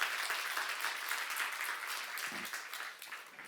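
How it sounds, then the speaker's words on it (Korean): A seminar audience at a church gathering breaks into applause, a dense, fairly quiet patter of many hands that holds steady and then gradually tapers off over a few seconds. "이해 간 사람만 박수 한번 쳐보세요."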